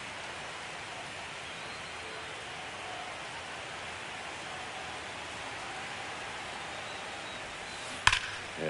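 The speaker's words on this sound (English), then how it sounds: "This rain is not letting up." Rain falling on a baseball stadium in the video game MLB The Show 25, a faint, even hiss of steady rainfall with a single sharp tick near the end.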